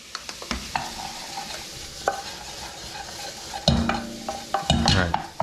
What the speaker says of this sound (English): it seems to be sizzling a little harder than I wanted to